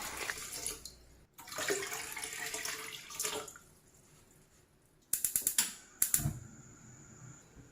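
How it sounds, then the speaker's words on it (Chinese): 1500 ml of water poured into a pot, a splashing pour in uneven bursts with brief gaps, followed by a quick run of sharp mechanical clicks. "倒入1500毫升清水，大火烧开。"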